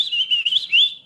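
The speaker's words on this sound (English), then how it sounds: "If you can whistle like a loud whistle like that" A loud human whistle used to call a dog, sustained and warbling with rising and falling pitch for about a second, heard alone with no talk.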